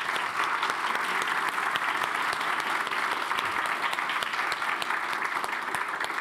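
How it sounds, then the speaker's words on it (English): An audience at a talk on reinventing meat applauds the speakers, a dense, sustained round of clapping at steady volume throughout, with a faint murmur of voices underneath. "Can we give a round of applause to all the amazing speakers?"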